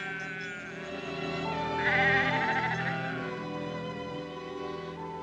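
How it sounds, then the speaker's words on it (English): Sheep bleat in a long wavering cry, a drawn-out nasal call that swells in the middle and fades, with other faint bleats behind it, close and alone. "the water hole dried up, and the sheep cried again"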